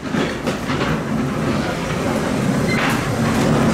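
A steady rumbling ghost train ride car rolling along rails at Flamingo Park, Hastings, with a continuous clattering rattle and an occasional brief knock, no voices.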